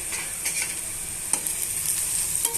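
Ginger garlic paste sizzles with onions and green chillies in a pan for egg curry, a bright steady hiss broken by a few sharp stirring scrapes.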